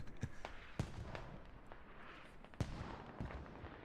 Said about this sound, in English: Hell cannon just landed right next to me.